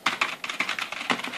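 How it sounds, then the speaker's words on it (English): Typing on a cheap PC-Line PCL-SK1 wired USB keyboard, a fast run of plastic key clicks heard up close in a quiet room. "we're going to take a look at a wired USB keyboard, which is the PC-Line PCL-SK1"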